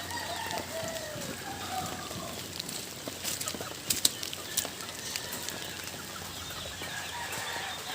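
Pet chickens cluck in their backyard pen, scattered soft clucks and a few sharper calls over a constant hiss of outdoor background noise, with no voices.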